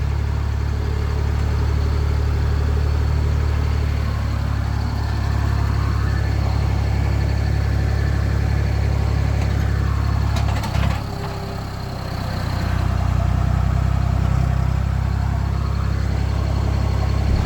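A tractor engine runs steadily at a wheat harvest, a continuous low rumble that stays close and loud for the whole stretch with only a brief dip in level midway.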